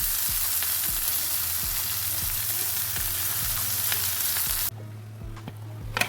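Garlic and slit green chillies sizzle loudly in hot oil, with regular spoon taps against the pan. Then leafy greens go in and the hiss abruptly drops to a quieter, damped fry.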